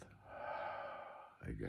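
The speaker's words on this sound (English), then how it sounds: "Can be even slower, like take more time to do the in-breath" A slow, drawn-out in-breath during a breathing exercise, soft and close, rising gradually over about a second before a sharper breathy intake at the end.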